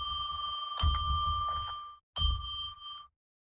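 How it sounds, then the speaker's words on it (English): Bell with a clear metallic ring struck at least twice here, each strike ringing out and decaying over about a second, close and alone in a quiet room. "I'm going to ring the bell 3 times to declare sacred space."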